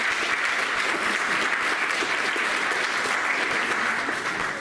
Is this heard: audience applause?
yes